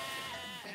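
Sheep and lambs from a small breeding flock in Kosovo bleating, a short, nasal bleat at moderate distance, alone without voices.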